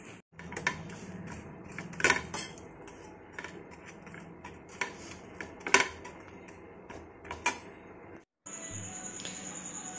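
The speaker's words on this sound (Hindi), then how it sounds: "और अभी मैं यहाँ पर धुल रही हूँ बर्तन" Dishes are washed by hand in an Indian home kitchen: steel pots, pans and utensils clink and clatter irregularly at close range, with soft scraping between the sharper knocks.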